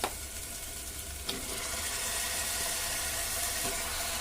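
Mutton drops into a pot of hot oil and softened masala for mutton bagara rice and sizzles loudly and steadily from close by. A faint clatter marks the start, and a dense hiss follows without pause.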